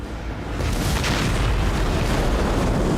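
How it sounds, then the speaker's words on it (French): An explosion at a petrochemical plant in Port Neches, a deep, sustained rolling boom that swells after half a second and roars on loudly and evenly, with no voices. "Il se trouve qu'une installation pétrochimique a pris feu et qu'elle a explosé."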